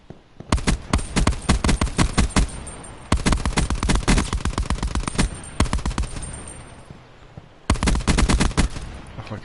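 Titan LMG light machine gun firing in Black Ops 4 Blackout, three long sustained bursts of rapid, loud, evenly spaced shots separated by short pauses.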